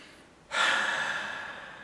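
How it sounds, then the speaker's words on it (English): A single deep inhalation starts abruptly about halfway through and then draws on as a steady, fairly loud airy rush until the end, with no talking. "Take a deep breath."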